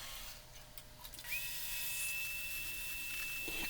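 Woodturning lathe taking finishing cuts on a wooden vase: a steady high whine rises in above a low shop hum partway through and holds evenly, fairly close.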